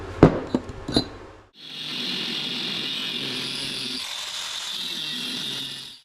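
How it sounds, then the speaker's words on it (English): A power tool cuts steel tubes on the front suspension beam of an oval Beetle pickup. A few sharp knocks come first, then a loud, steady, whining cut runs unbroken for about four and a half seconds, with no talking. "What I need to do now is cut 1 inch off those tubes on the beam."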